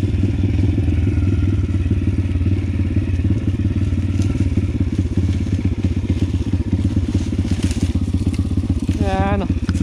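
A Pitgang 140XD pit bike ridden at an easy pace through woodland, its single-cylinder engine droning steadily and loudly throughout, with crunching and clattering from the forest floor and a brief voice near the end.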